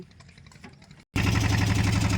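A boat engine idles on the Narmada river, loud and steady, with a rapid rhythmic chug that swells abruptly after a brief moment of near silence.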